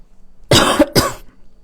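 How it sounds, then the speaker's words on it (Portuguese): Two sharp, raspy coughs in quick succession, close and loud, with quiet background before and after. "eu tô com uma tosse, parece que ele não passa"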